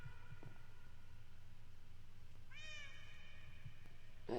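A cat meowing in a Minecraft-style video game, a single clear mid-clip meow over a constant low pulsing hum, with no talking.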